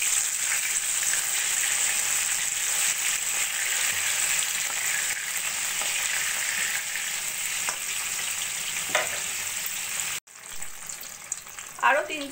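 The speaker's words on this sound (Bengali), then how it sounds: "এবার উল্টে যাতে বেশ ভাজা ভাজা হয় সেরকম করে নেব।" Eggplant slices fry in hot oil in a pan, giving a loud, continuous sizzle with occasional stirring scrapes, briefly interrupted near the end.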